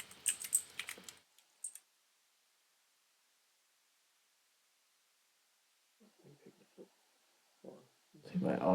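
Brief bursts of keyboard typing at the start, then near silence, with a few soft clicks and rustles returning toward the end.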